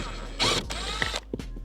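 A ratchet works a 7mm bolt out of the edge of a trim panel on a 2021–2025 Ford truck, giving a short burst of quick mechanical clicking followed by a couple of faint taps, close and fairly quiet.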